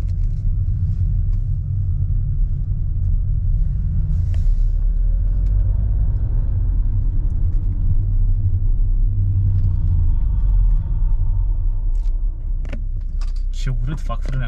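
An Audi A6 C8 on the road with its ZF 8-speed automatic shifting, a steady low engine and road rumble inside the cabin, with someone talking and some jangling and clicks near the end.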